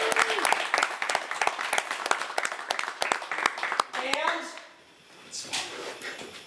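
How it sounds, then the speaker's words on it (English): Film crew clapping for an actor at a set wrap, a small group's scattered, distinct claps close by with voices mixed in, tapering off into quieter room sound. "Ladies and gentlemen, a round of applause."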